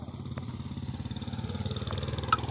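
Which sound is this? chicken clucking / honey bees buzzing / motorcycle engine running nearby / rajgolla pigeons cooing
motorcycle engine running nearby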